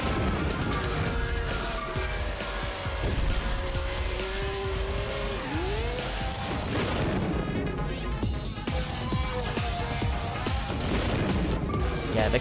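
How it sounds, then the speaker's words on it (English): In the GameCube racing game XGRA: Extreme-G Racing Association, loud booming blasts punch through a continuous roar of high-speed engines and whining effects, dense and unbroken throughout. "Yeah, the constant sonic booms."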